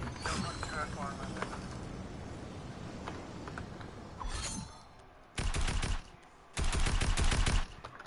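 Weapons firing in a video game, heard as bursts of rapid gunfire, two loud sustained volleys in the second half after earlier mechanical clicking and creaks, with some faint talk in the background.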